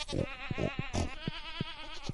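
Goats bleat in the farming video game Stardew Valley, several wavering calls overlapping in a fairly loud, close chorus, repeated every fraction of a second, no voices.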